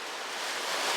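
Ocean waves splashing on the coast between Land's End and Nanjizal Beach, a dense, loud hiss of surf and spray with a slight swell in level and no voices.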